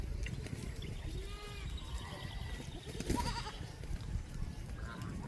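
Farm goats grazing in a field bleat a few times, wavering calls rising over a dense outdoor background, with faint voices nearby.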